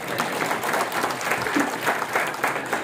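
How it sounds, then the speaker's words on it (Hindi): Seminar audience applauding steadily for about three seconds, a dense even patter of many hands with no speech over it. "एक बार ताली ठोको।"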